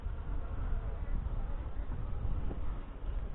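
Honeybees from a hive headed by a Saskatraz queen buzz during a week-five hive inspection, a steady, dense hum that fluctuates slightly throughout.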